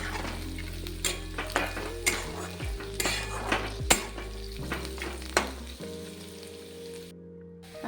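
Peanuts fry in a pan with light crackling under sharp metal clinks and scrapes of a spoon against the pan, the taps coming in irregular bursts, followed by a quieter sizzle toward the end.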